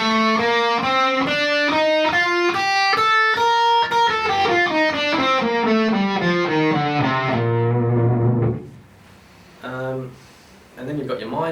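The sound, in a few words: electric guitar playing 5th string major scale pattern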